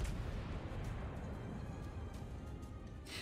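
Naval gunfire in a warship video game, aimed at a Cleveland cruiser: a dense, continuous rumbling wash of distant cannon booms and explosions with faint bursts, no talk over it.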